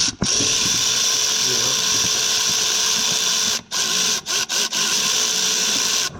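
Ratchet on a long extension turning a bolt on an S2000 clutch master cylinder, a steady dense clicking and whirring that runs almost continuously with a few brief pauses near the end, a voice talking faintly underneath.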